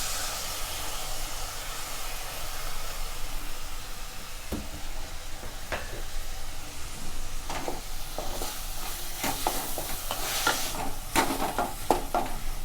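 Onions and tomatoes sauté in a pan for a vegetarian dal-ball chukka, giving a constant soft sizzle with scattered sharp scrapes and taps of a spoon that grow more frequent toward the end.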